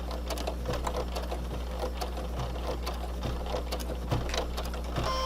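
A sewing machine runs steadily while stitching a filter pocket on a mast, a continuous close mechanical whir with a low hum beneath, no talk.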